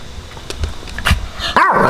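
Evie the dog barks outside behind the house, a few close, sharp barks in quick succession followed by a rising yelp-like whine.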